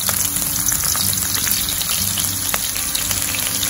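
Chopped onion hitting hot oil for a Chicken Manchurian stir-fry gives a steady, loud sizzle with crackling pops throughout, close up, with no voices.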